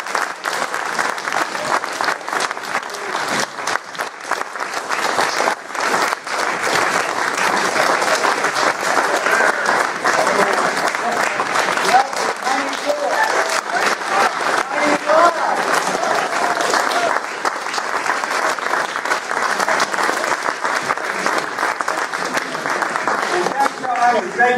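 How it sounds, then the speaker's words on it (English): A large audience at a Centralia College event breaks into sustained, dense applause that stays loud and steady for about twenty-five seconds, a continuous wash of clapping. "So please join me in a rousing round of applause."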